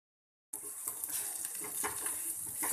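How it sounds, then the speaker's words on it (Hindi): Coarsely ground urad dal goes into a pan already holding garam masala and hing, with a soft sizzle, light stirring and scraping of utensil against the pan, fairly quiet and steady. "और अब इसमें मैं इस दाल को डाल दूंगी। ये मैंने उड़द की दाल ली है"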